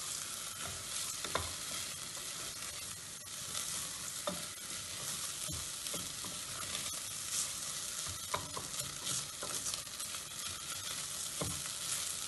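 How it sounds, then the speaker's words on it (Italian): Rice grains toasting over a lively flame in sausage fat and olive oil for a sausage and pepper risotto, a steady close sizzle with frequent stirring scrapes throughout. "ci sarà una bella tostatura del chicco a fiamma vivace per qualche minuto"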